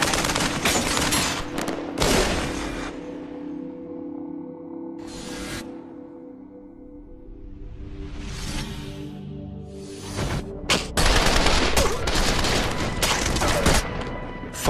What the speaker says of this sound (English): I proned out, aimed, and continued to fire at the suspect.